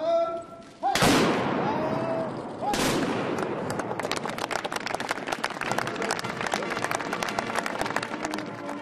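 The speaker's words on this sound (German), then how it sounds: "Um für den Bundespräsidenten und die Landeshauptleute aus Tirol, Südtirol und dem Trentino die Ehrensalven zu schießen." Ceremonial honour salute volleys fired in Tyrol, two sharp loud blasts a couple of seconds apart followed by a crackling rattle of scattered sounds, with a voice heard briefly at the start.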